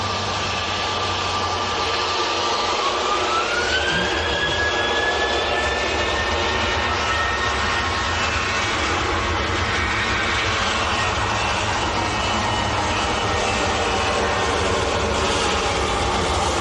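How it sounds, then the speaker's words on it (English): A KLM airliner bound for Amsterdam at Manchester Airport, its engine roar loud and continuous throughout, with a rising whine sweeping upward early on and holding. "KLM to Amsterdam."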